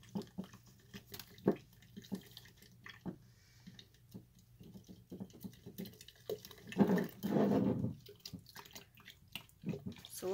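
Methyl cellulose being stirred into a cup of hot water to make glue, soft irregular sloshing and clinks with a louder liquid swirl midway, close and quiet.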